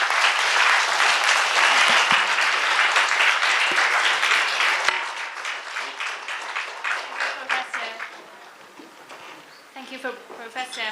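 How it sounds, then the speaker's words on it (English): Lecture audience applauding loudly and steadily, the clapping thinning out toward the end as a voice begins speaking near the close. "let's give a big round of applause to Kishon."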